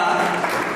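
Audience applause fills an award ceremony hall in a brief, dense, continuous burst of many hands clapping at close range.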